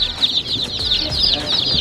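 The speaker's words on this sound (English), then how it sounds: "Little baby chickens." A crowd of baby chicks in a store box peep continuously in a dense, high, overlapping chorus, close and fairly loud, with faint background noise.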